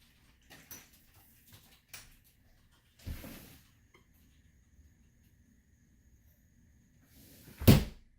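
A home door fitted with a security sensor is shut a couple of times, giving a soft thud mid-way and a louder, close slam near the end, with quiet handling noises between.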